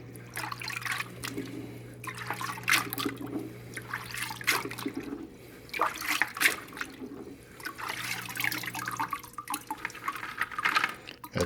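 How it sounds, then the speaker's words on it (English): Marine Pure CER ceramic filter media being rinsed in water: sloshing and trickling in several bursts, with quieter dripping in between. "all you have to do is just give it a little rinse"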